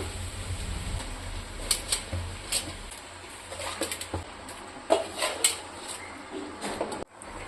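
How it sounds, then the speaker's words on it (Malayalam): Chicken is stirred and mixed in a cooking pot for a Kerala curry, with scattered clinks and scrapes of a utensil against the pot over a low background hum, louder taps coming in short clusters. "നല്ലതുപോലെ മിക്സ് ചെയ്ത് കൊടുക്കാം കേട്ടോ മിക്സ് ചെയ്യുമ്പോൾ അത് പൊടിഞ്ഞു പോകരുതേ"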